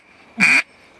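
A single short blast from a duck call played without finger movement, a nasal buzzy quack lasting a fraction of a second, loud and close against near silence.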